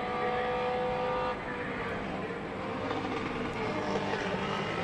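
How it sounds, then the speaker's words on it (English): A vintage Alfa Romeo race car roars past on the Watkins Glen circuit during a historic race, a steady, fairly distant engine drone with no talk. "Beautiful Alfa Romeo"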